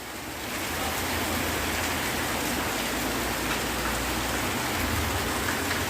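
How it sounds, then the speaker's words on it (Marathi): Heavy monsoon rain pours down steadily in rural Konkan, Maharashtra, a dense hiss of water striking surfaces, loud and unbroken after a brief quieter start, as drums fill. "आता धो धो पाऊस पडायला लागलाय"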